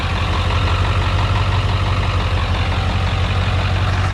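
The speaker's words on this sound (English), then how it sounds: "I turned the truck off so you can actually hear me" Truck engine idling steadily on a Ford 7.3 OBS diesel pickup, a loud continuous low rumble with even pulsing that holds for about four seconds and then cuts off abruptly.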